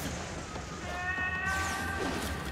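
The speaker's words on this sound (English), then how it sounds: "All these cats." Cats meowing in an anime episode, a few drawn-out, high mewing calls rising and falling over a rumbling background, close and clear.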